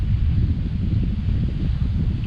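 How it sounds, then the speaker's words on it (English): Wind buffets a microphone on an open hilltop in summer, a continuous low, loud rumble with no voices. "It's a little breezy up here on top of the hill."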